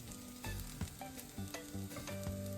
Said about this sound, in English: add in the chopped mushroom stems. Stir it and cook it really well.